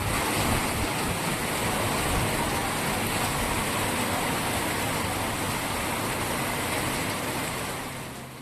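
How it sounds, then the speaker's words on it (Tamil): Summer rain falling steadily, a dense, even wash of noise that holds for several seconds before easing slightly at the end, with no voices. "கன்னியாகுமரி, நெல்லை, ராஜபாளையம், சாத்தூர் உள்ளிட்ட இடங்களில் பரவலாக பெய்த கோடை மழை"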